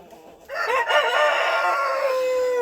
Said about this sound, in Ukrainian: курочка несеться австралорп